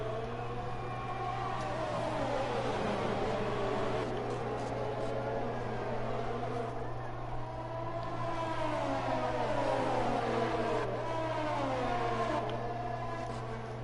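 F1 cars in an esports racing video game at the Spanish Grand Prix, engines whining and sweeping up and down in pitch as they speed along the pit straight, loud and continuous over a steady low hum.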